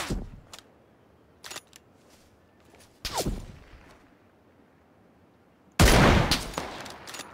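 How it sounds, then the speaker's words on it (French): Gunfire rings out in PUBG: sharp isolated shots crack with quiet gaps between them, followed by louder close-range blasts and a final heavy report that trails off. "Oh fuck, je me fais shot."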